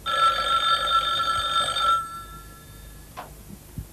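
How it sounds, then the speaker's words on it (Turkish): A telephone bell rings loudly for about two seconds, then stops, leaving quiet room noise with a couple of faint clicks. "Telefon."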